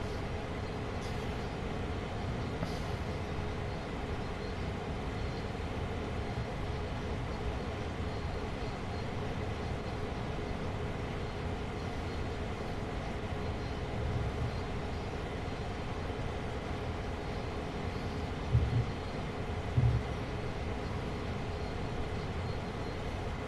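A freight train runs steadily in the Train Sim World game, a continuous low rumble of engine and wheels holding at an even level throughout, with a couple of brief knocks near the end.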